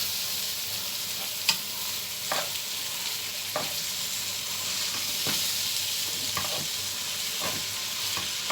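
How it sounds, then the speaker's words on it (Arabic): Onions frying in oil while being stirred, a steady bright sizzle broken by scraping spoon strokes against the pan every second or so, close and alone with no talking. "افضل اقلب فيه شويه كده يتشوح مع البصله والزيت"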